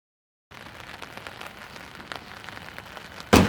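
Rain falling steadily outdoors in the Pacific Northwest, a dense, even hiss of drops on surfaces that starts abruptly and carries on alone, ending with a sudden louder splash or gust.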